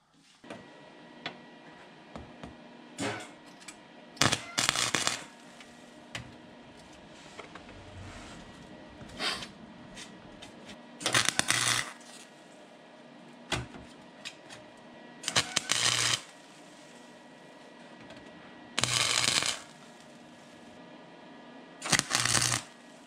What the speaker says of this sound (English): right now it's actually welding really good